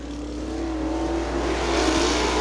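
Winged outlaw super sprint cars racing on a dirt track at Butler, forming a loud, continuous engine roar that swells gradually as the cars come nearer.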